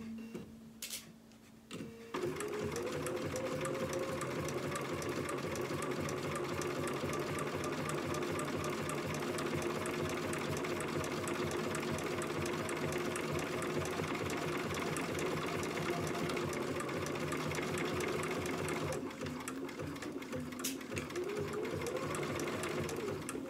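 A sewing machine stitches red rickrack trim onto a dress with red top thread. After a brief pause at the start it runs steadily and loudly for most of the stretch, with a short slowdown near the end, and no one talks.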